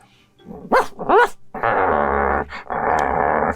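A dog gives two short whining yips followed by two longer rough, growling bark-like bursts, close and loud, with no talk over them.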